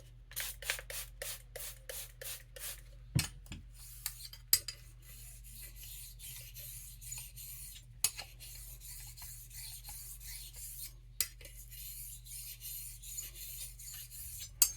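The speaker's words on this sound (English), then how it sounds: "because I'm using Arkansas stones for the most part, I'm going to use half strokes" A straight razor honed with half strokes on an Arkansas sharpening stone, giving a quick run of close, even rasping strokes at first, then sparser scraping passes at irregular intervals against a low steady hum.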